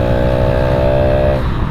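A motorcycle engine runs steadily and loud, a sustained drone that drops in pitch and roughens near the end as it eases off.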